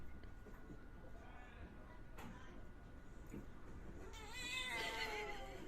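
A cat meows and yowls several times, the cries growing louder and more drawn-out toward the end, over a steady indoor hum and low background noise.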